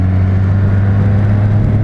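A Suzuki Katana motorcycle engine drones steadily while riding at 120 km/h in fourth gear, a loud, close, continuous hum with a strong low tone and no change in pitch.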